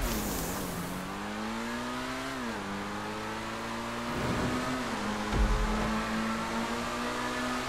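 Stock Annis RE7B sports car in GTA 5 Online, its engine droning steadily and close, pitch climbing through gear changes with a brief rev dip and a sharp thump midway, no talking.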